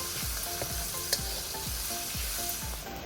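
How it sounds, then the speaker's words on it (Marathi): Curry leaves and chana dal sizzle in a pan while a spoon stirs them, giving a steady frying hiss with regular scraping strokes about twice a second and one brief clink, with no voices. "कढीपत्ता घातल्यावर साधारणतः 3-4 मिनिटं तरी फिरवणं आवश्यक आहे."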